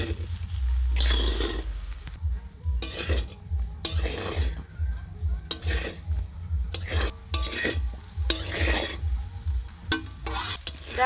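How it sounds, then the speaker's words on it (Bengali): Mutton fried rice stirred in a pan with ghee, rhythmic spatula scrapes and clinks against the metal repeating steadily over a low background sizzle, close and fairly loud, no voices. "এখন ভালো করে নেড়ে চেড়ে 5 মিনিট ধরে নেড়ে চেড়ে নেব"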